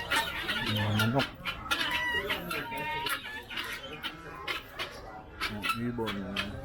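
Chickens clucking close by on a farm, with several bursts of busy clucking and squawks and a crow-like call mixed in.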